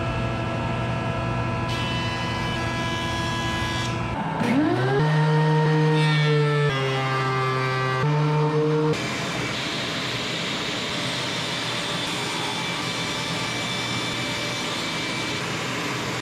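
Power tools milling lumber stock for a hand-crafted tenon bench: a loud whining motor with pitch shifts as blades spin up and bite into wood, then a broad steady roar of cutting, no voices.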